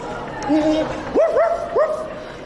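People at a zoo bark in imitation of dogs, their voices giving several short rising yelps and one longer bark, close and fairly loud over the steady murmur of a crowd.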